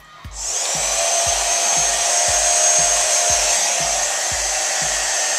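Hair dryer blowing steadily on hair roots during a blow out, a loud, close, continuous whooshing roar that starts abruptly and holds, with faint regular rubbing pulses underneath.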